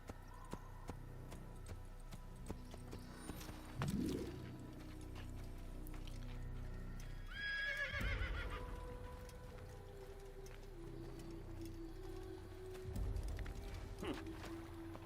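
Horse in the Assassin's Creed video game: rhythmic hoofbeats of a gallop with a brief neigh partway through, set against quiet ambient game sound.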